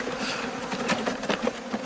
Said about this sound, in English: we're going to capture these bees and we're going to put them in our cottage hive